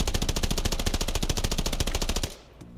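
Sten submachine gun from the Vanguard and Warzone shooter games fires in a fast, steady burst of close, loud shots for about two seconds, then stops abruptly with a short mechanical clink in the quiet tail.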